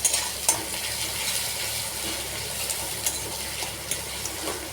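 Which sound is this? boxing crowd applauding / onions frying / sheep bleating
onions frying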